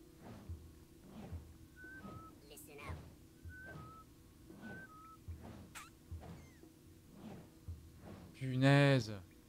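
Repeated short warning whistles from the video game Oddworld New'n'Tasty sound in an even rhythm, each a brief pair of tones among soft thumps and game effects, with a louder burst near the end.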